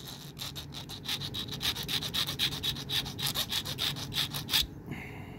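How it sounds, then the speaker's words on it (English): Light hand sanding of a nail: a steady run of rapid back-and-forth scratchy strokes, close and fairly quiet, then it stops. "And then I'll just do a little bit of light sanding."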